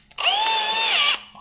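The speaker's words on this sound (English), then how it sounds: "We need to drill out these two holes just a smidge" A power drill briefly spins up and runs at a steady high whine for about a second while drilling out mounting holes on an engine mount for a Beretta Z26 with a Quad 4 engine, then winds down.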